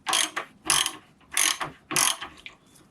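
A cap nut being unscrewed from a spring-loaded accumulator valve body on a Shadow-series transmission: four distinct ratcheting clicks in a steady rhythm, close and crisp, with a faint trailing rattle.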